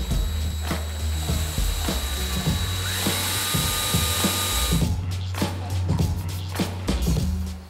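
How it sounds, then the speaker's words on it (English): A power drill bores a small pilot hole in a wooden bathroom mirror case for a tiny home, a loud close whine with ratcheting pulses that cuts off sharply near the end. "I've pre-drilled a little hole here that lines up with the hole I drilled through this case"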